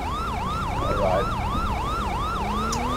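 A police car siren in GTA 5 wails in a fast, regular yelp cycle, loud and steady for three seconds under a low engine hum, with no talking.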